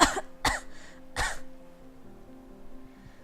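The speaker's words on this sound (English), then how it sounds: "The words break apart as I start coughing." A person coughs in a visual novel, Cinderella Phenomenon: three sharp, close coughs in quick succession, followed by a quieter tail with a faint sustained background tone.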